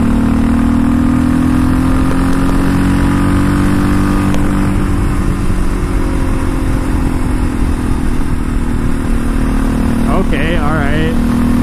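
Quad ATV engine droning steadily while riding on a city road, a loud constant motor hum with wind, someone talking over it throughout.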